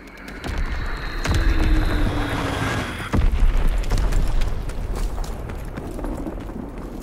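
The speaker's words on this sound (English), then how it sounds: "Enemy bomb incoming." Bombs explode in Call of Duty: WWII, heavy booming blasts with rumbling low-end debris and sharp impacts, one large detonation near the middle amid continuous battlefield noise.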